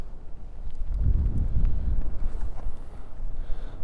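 Wind buffets the microphone in uneven low rumbling gusts during heavy rain, with faint patter and a few light knocks in the background.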